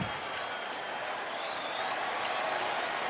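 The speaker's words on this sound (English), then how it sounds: "They might get one more pitch to stay standing and cheering for the last out" A big baseball crowd at a Dodgers home game against the Marlins stands and cheers for the last out, a steady dense roar of applause and voices, loud and continuous throughout.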